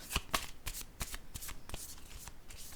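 Tarot cards shuffled by hand at close range, a run of quick riffling bursts and soft flicks repeating in an uneven rhythm over a few seconds, with no talking.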